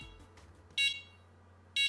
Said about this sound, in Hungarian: abban az esetben a jelző riasztást küld a vevőegységünknek.